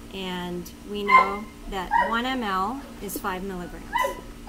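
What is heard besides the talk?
dog barking outside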